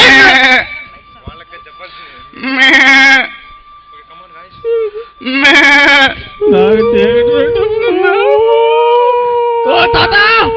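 Sheep bleat in three loud, separate cries spaced a few seconds apart, followed by a longer wavering bleat-like call that carries on under other voices.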